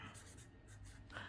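Pen or pencil writing on paper in a gluebook, a steady soft scratching across the whole moment, close and fairly quiet, with faint breaths.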